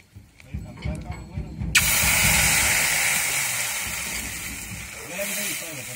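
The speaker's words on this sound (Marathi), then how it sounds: "आणि थोडस लाल झालं का लगेच हे पाणी टाकून द्यायचं." Water is poured onto grated coconut fried red in a pan for rice kheer, bursting into a loud, sudden hiss of steam that fades slowly, with someone talking before and after.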